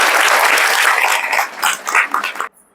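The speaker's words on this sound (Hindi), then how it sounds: "एक बार ताली बजा के उनका स्वागत करें।" At a spiritual gathering, an audience claps steadily to welcome a guest. The loud, dense applause builds, thins into scattered claps, and then stops abruptly.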